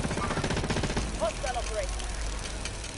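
Rapid bursts of automatic gunfire in a Warzone battle, sharp repeated cracks rattling close and loud while a voice talks over the shooting.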